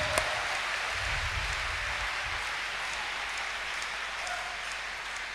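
A church congregation claps hands during a prayer service, a steady soft wash of clapping heard at a distance, fairly faint and continuous without a clear beat.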